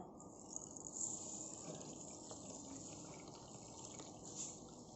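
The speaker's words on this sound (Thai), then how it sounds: "เดี๋ยวเราก็จะล้างผ่านน้ำนะคะ" Small white sago pearls being rinsed in water, a quiet wet trickle and soft sloshing with faint drips, steady and close, with no talking.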